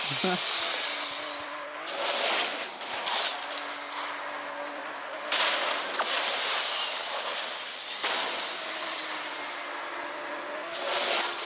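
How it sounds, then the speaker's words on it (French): Tires skid as a car drifts in the racing game Asphalt 9, several bursts of screeching over engine drone, with brief gaps between slides and a voice talking over the action. "Donc, petit dérapage."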